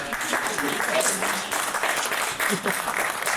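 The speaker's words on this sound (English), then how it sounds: "One last applause from us to you." A crowd at a city's state-of-the-city event breaks into sustained applause, dense and steady throughout, with voices mixed into the clapping.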